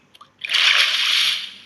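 Water splashes in the Minecraft video game: one loud, hissing rush of splash noise lasting about a second, close and alone, after a couple of faint small ticks.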